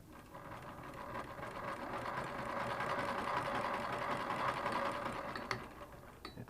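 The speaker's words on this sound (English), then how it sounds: "So let's see if it stitches a stitch." A hand-cranked Singer 32-1 sewing machine stitches with a steady, fast mechanical whir and clatter that builds in pace and then slows to a stop, heard alone and fairly close.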